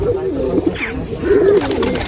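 Pigeons at a Nashik loft, including a large red Lalchin, give low throaty coos close by, with a faint voice underneath.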